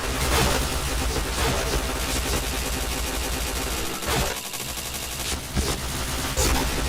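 Video game gunfire as a gangster shoots people during chain headshots: loud, dense, continuous bursts of shots fill the whole stretch, with only a brief dip midway.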